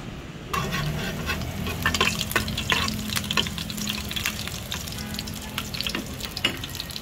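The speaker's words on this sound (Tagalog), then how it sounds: "Ahos, buyas, ginisa na guys." Garlic and onion sauté in a hot pan, with a steady close sizzle and frequent scraping stirs and clinks of a utensil against the pan, loud and continuous.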